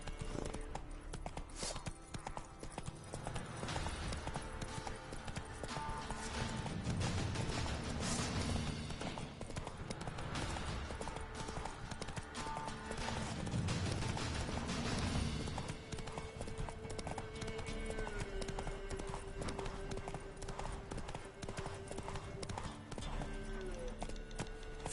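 Hoofbeats of Roach, a horse in a PS4 video game, gallop in a steady clip-clop rhythm throughout, close and loud over background game sounds and music, with a brief shout urging the horse on.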